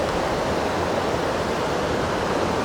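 Steady, full-bodied rush of a flowing creek at an old coal camp in Greenwood, West Virginia, constant and fairly close, with no voices.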